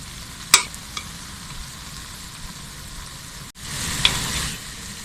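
Unniyappam batter frying in a pan, a steady soft sizzle with a couple of sharp clicks early on and a louder burst of sizzling toward the end.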